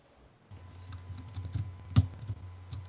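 Irregular clicks and clacks of typing on a computer keyboard, fairly close and moderately loud, with no talking.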